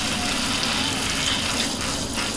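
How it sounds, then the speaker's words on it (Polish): Warm water gushing steadily from a tap into a bathtub, a continuous broadband rush that stays loud and even throughout with no voices. "Akurat ciepła woda się włączyła."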